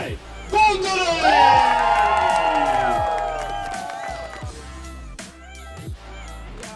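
Crowd cheers and whoops for the parallel slalom winners at the Baltic Cup 2017 ski race, swelling under a loud announcer's voice and fading out.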